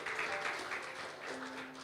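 A church congregation applauds during a service. A soft, steady patter of many hands clapping sounds moderately distant and fairly faint, with no voices over it.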